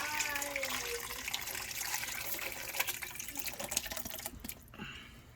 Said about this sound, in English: So pour that juice in this bowl.